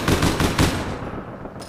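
A quick, loud burst of automatic gunfire in APB Reloaded, three or four rapid shots close up that trail off into a fading echo.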